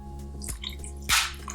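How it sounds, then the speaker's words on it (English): A small splash of water poured into a pot of beef and bean chilli, with a few soft drips and one brief louder pour, close and quiet over a low hum. "I'm just going to add a little bit of extra water"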